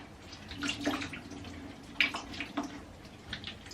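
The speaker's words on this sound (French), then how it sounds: "Je presse un peu pour faire sortir un peu d'eau au niveau des longueurs" Wet hair wrung out by hand after shampooing, giving soft splashes and drips of water falling into a tub or sink, with a few sharper spatters, close and fairly quiet, no talking.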